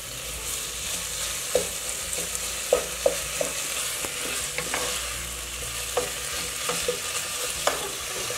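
Minced meat (keema) frying with spices in a pan, stirred steadily with a spatula: a continuous soft sizzle broken by sharp scraping clicks every second or so, no voices.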